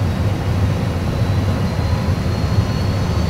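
An Airbus A320 in a simulator training session takes off, giving a steady, loud broadband rumble with a strong low-frequency drone that holds evenly throughout.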